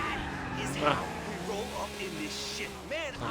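A car driven in GTA IV hums along with a steady engine drone and some tire noise beneath someone talking loudly over it.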